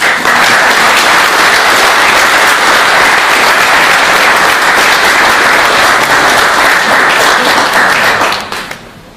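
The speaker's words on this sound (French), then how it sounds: "Nous pouvons les applaudir." Loud, sustained applause from a crowd at a political speech, dense clapping holding steady for about eight seconds before tapering off at the end.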